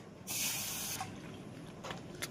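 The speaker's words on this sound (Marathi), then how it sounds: "त्या कढईमध्ये दूध घालून घेऊया" Milk is poured into a kadhai, giving a brief bright splashing rush for under a second, followed by faint trickles and a few soft drips in a quiet kitchen.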